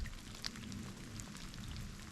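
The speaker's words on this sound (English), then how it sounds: "It is a little chilly in the rain" Scattered raindrops patter on the ground and branches of a chilly winter forest in the Maine woods, a soft, steady, fairly faint wash of drips with no voices.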